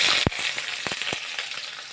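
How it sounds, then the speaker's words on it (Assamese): Chopped onions and green chillies fry in hot oil in a pan: a steady bright sizzle runs throughout, broken by a few sharp stirring scrapes near the start and middle. "এতিয়া লাৰি দিছোঁ আৰু পিঁয়াজখিনি ৰঙচুৱা হোৱালৈকে ভাজিম অলপ"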